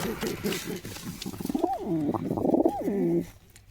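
A pair of red-headed high-flying pigeons coo close by, a run of soft rhythmic pulses followed by two longer rising-and-falling coos, alone with no talk.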